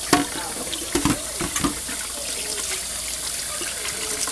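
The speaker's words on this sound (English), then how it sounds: "Rinse that off." Water runs steadily from a sink tap while something is rinsed off, with a constant close hiss broken by a few brief splashes and clunks near the start.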